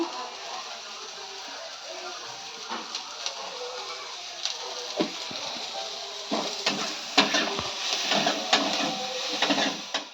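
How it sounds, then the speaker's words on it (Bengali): Onion, green chili, tomato and soybean fry with salt and turmeric in a pan, giving a steady bright sizzle with scattered clinks and scrapes of a utensil, loudest toward the end. "এইগুলো পেঁয়াজ, কাঁচা লঙ্কা, টমেটো, সোয়াবিন, এই দেখুন একসাথে আমি ভেজে নিচ্ছি।"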